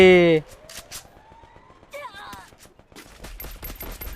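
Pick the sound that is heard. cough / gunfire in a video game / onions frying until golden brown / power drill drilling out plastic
gunfire in a video game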